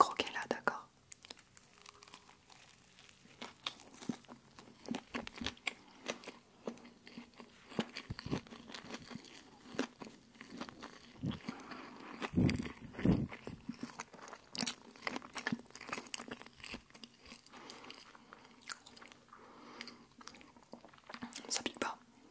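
A McDonald's wasabi burger is bitten and chewed close to the mic, with wet crunchy chews and wrapper crinkles at an uneven pace and soft whispering in French between bites.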